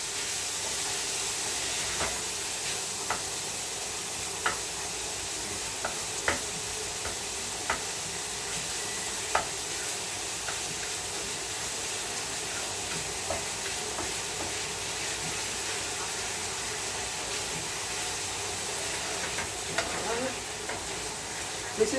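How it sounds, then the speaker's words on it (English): Ground beef sautés for a long stretch with a steady, hissing sizzle, punctuated by regular clicks and scrapes of a stirring utensil, close and fairly loud, with occasional faint voice traces underneath. "I'm sauteing the ground beef"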